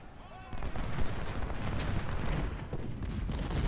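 Cannon fire on a Civil War battlefield in the strategy game Ultimate General: Civil War, Battle of Shiloh, with dense rolling booms and crackling volleys layered into a loud, continuous battle din.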